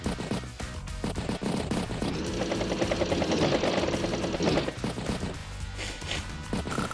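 A mech infantry attack in Advance Wars plays as a dense burst of rapid gunfire and whirring battle effects, loud and close, swelling in the middle of the few seconds before tapering off.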